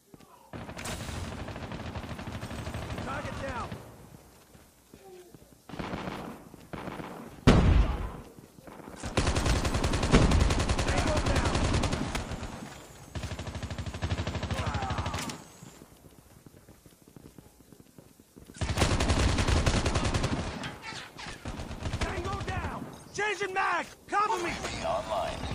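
Bursts of gunfire in the mobile shooter game COD Mobile, with rapid automatic volleys separated by short quiet gaps, loud and close, while a player talks over parts of it.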